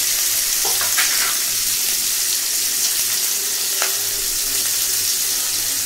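Mustard seeds sizzle in hot mustard oil with a loud, continuous, close frying hiss, dotted with a few small pops and crackles, and no voices.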